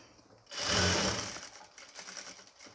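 A domestic sewing machine stitches a nighty, its motor whirring loudly and steadily after a quiet start, then easing to a softer, uneven run toward the end, with no voices.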